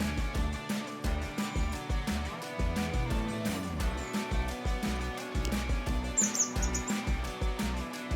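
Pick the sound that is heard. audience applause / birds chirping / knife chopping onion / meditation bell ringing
birds chirping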